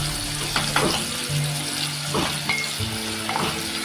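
Curry leaves and onion fry in a pan for a Konkan birda vegetable dish, a steady close sizzle broken by occasional stirring scrapes, with no voices.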